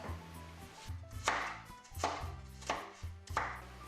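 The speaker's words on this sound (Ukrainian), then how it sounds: "Морквину наріжу невеликими шматочками." Knife chopping a carrot on a cutting board, about five sharp chops at a steady pace over soft background music.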